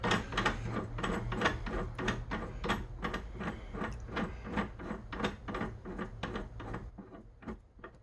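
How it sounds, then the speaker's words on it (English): A Dillon depriming/resizing die is screwed into an XL750 press tool head, giving a fast, steady series of close, rhythmic metallic ratcheting clicks that continue evenly before tapering at the end. "I'm going to screw this into the tool head until it won't go down any further"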